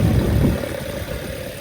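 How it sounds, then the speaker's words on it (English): A classic car's engine idles with the bonnet up at an outdoor car show, a steady low rumble, close and continuous, easing slightly after the first half second. "He's got this thing bonnet up and engine running."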